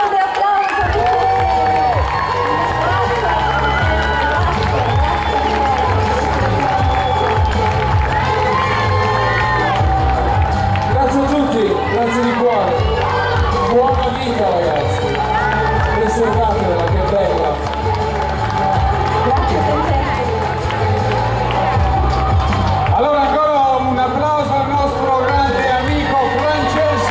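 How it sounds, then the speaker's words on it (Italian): Crowd at an outdoor concert cheering, shouting and clapping loudly and continuously, with a band's music and voices mixed into the roar. "Facciamo l'ultimo grande applauso a tutti."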